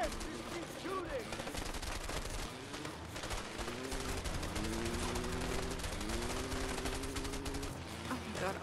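Rapid gunfire in the video game A Way Out, continuous bursts of shots at moderate level with game sounds mixed in throughout.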